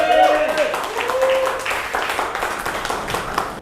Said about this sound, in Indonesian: boleh kasih tepuk tangannya dulu